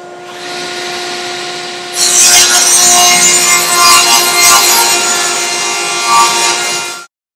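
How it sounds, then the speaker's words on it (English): A table saw cutting through wood in a workshop with a dust collector running: a steady machine hum, then a loud, rough, bright cutting roar that holds for about five seconds before stopping abruptly. "we'll be turning on the table saw and cutting some wood"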